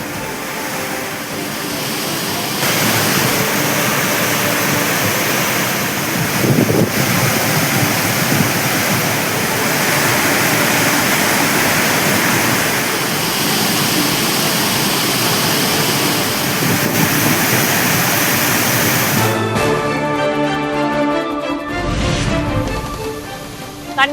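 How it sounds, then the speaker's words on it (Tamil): Manimuthar waterfall in flood after heavy rain in the Western Ghats, a loud, continuous roar of rushing water with no letup, followed near the end by a brief shift to different noise. "மணிமுத்தாறு அருவியில் தொடரும் வெள்ளப்பெருக்கு."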